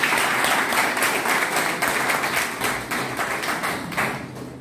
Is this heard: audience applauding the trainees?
yes